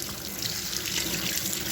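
Tap water runs steadily over a cracked, split mango as it is rinsed under the faucet, a continuous close splashing hiss with no pauses.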